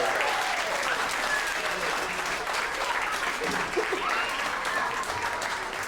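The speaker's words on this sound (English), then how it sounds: "Can I hear one more round of applause for our camp this year, Ensemble 2025?" Audience applause for the Ensemble 2025 summer camp after its performance, a steady dense round of clapping from a crowd that holds evenly for several seconds.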